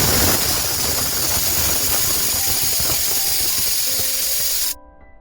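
A pressure cooker cooking rajma lets out a loud, steady hiss of escaping steam that runs continuously, then cuts off abruptly near the end, leaving only a faint low hum.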